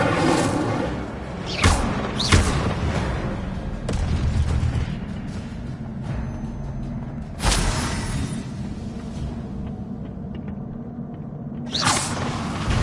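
Spell-casting in Hogwarts Legacy, including the Incendio fire spell, comes through as several loud whooshing bursts and booming thumps spaced a few seconds apart over a low rumbling background.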